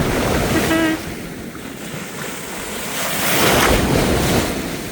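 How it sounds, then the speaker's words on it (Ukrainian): Large Black Sea waves crash and surge continuously at the Odesa shore with heavy wind buffeting the microphone, a brief tonal sound early on, the roar swelling louder toward the end. "хвилі великі, вони якщо припливають сюди"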